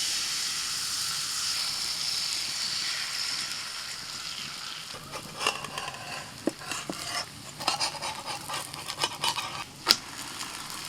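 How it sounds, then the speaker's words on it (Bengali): Batter for a paneer and potato snack is ladled into a frying pan, a soft steady hiss that turns into crackling sizzle and spatter pops partway through. "এবার এখান থেকে 1 হাতা ব্যাটার নিয়ে আমি দিয়ে দিচ্ছি প্যানের মধ্যে।"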